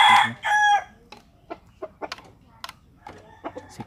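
An imported rooster crows loudly and close at the start, then gives a scattering of short, sharp clucks and calls against a quiet yard background.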